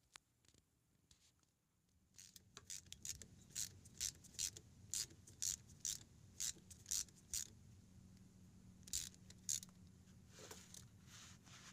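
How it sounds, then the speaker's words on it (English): Ratchet wrench working a rusted steering shaft bolt on a Toyota Sequoia rack and pinion, giving a series of quick, close clicking bursts in an irregular rhythm over faint background noise. "Right now I'm on top using my ratchet to take it out."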